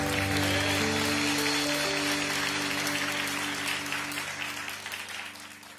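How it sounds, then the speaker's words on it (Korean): A church congregation at a Baptist service claps together in a dense, sustained round of applause that fades gradually over several seconds, with soft organ or keyboard tones held underneath. "가장 큰 영광의 박수를 올려드릴까요?"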